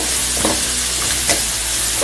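Grated coconut being stirred into green tomatoes frying in a pan for green tomato chutney, a steady loud sizzle with a few scraping stir strokes over it, close up and without talk.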